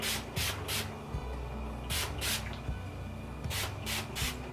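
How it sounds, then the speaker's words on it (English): Hairspray misted onto teased hair for a rodeo queen style, heard as three separate clusters of short hissing spray bursts, each group of two or three quick pumps, close and fairly quiet over a low background hum. "And guess what we're gonna do? Hairspray."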